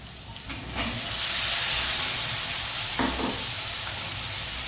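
Cauliflower and potato sauté in a hot pan with chili powder for a flower-batata bhaji, a loud steady sizzle that swells after a brief start, with faint stirring scrapes midway.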